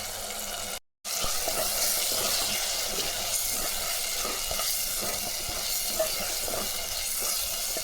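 Ground masala paste sautés in a pan for a quick kurma, giving a steady, close sizzle with a brief dropout near the start and no talking.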